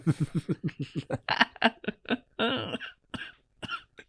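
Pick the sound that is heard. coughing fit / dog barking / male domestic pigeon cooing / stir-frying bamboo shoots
coughing fit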